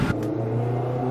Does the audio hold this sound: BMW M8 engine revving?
yes